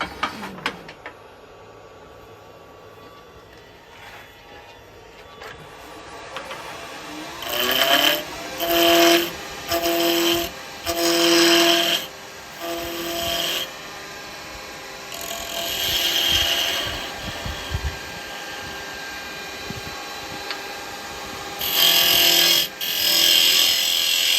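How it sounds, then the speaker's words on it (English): A wood lathe spins up and runs with a steady whine while the bottom of a turned wooden piece is sanded, the sanding coming in repeated loud rasping bursts of a second or two, close by. "I've got to sand the bottom of it first."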